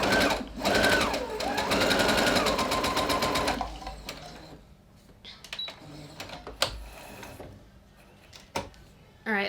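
A Brother CS6000 sewing machine stitching fabric for a farmhouse-style zippered pillow, a fast loud mechanical whir for a few seconds that then stops, followed by quieter handling clicks and taps.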